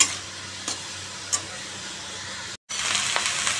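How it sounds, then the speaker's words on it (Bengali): Vegetables frying in a pan with salt and turmeric added, a soft continuous sizzle with a couple of sharp stirring clicks, a short dropout, then the hiss returning louder. "তার জন্য আমি এটা একটু ভেজে দেবো, তারপরে শাকগুলো দিয়ে দেবো।"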